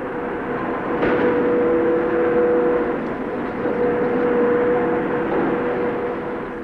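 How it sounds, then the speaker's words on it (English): A modern battle tank's gun elevates and depresses through 22 degrees, giving a steady, continuous mechanical whir and hum with faint tonal lines, close and even in loudness throughout, no voices. "The tank elevates and depresses its gun smoothly through 22 degrees"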